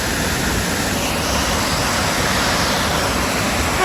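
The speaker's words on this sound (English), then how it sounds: "Hemlock Falls on Hemlock Creek, I believe." Hemlock Falls on Hemlock Creek pours in a steady, dense roar of falling water, loud and close, filling the whole stretch without a break and with no voices.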